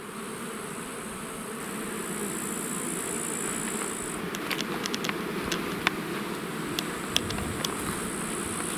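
Honey bees swarm around an opened beehive at the end of the season, a dense, steady buzzing close by with a high insect whine and occasional brief clicks, no talk.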